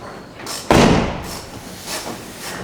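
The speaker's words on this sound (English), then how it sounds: "just for reference I will now close this door" A car door fitted with fresh Raptor lining swings shut in one firm, close slam, its thud fading quickly into a quiet room with faint background rustle.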